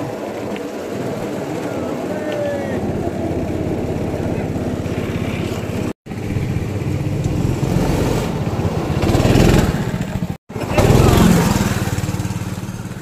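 Go-kart engines buzz around a track, a continuous high, nasal drone that swells as karts pass nearby, with two brief cutouts and people talking over it.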